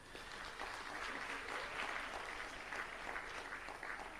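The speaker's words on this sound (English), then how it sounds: "I would love you to give a round of applause to Professor Michael Sandel" Symposium audience giving a dense, sustained round of applause, a continuous wash of many hands clapping at steady volume, heard from a distance, with no talking over it.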